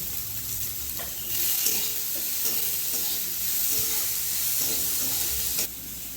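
Onions sizzle and crackle in a hot pan, a steady frying hiss with occasional scraping stirs, close up and no talking.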